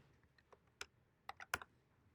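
Keys on a computer keyboard are tapped in a short irregular burst of faint clicks in a quiet room.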